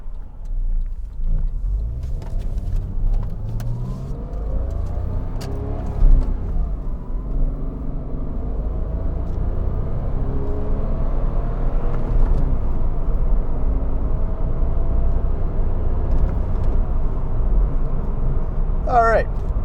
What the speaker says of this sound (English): it sounds incredible. Not that, I'm talking about the engine that this particular vehicle has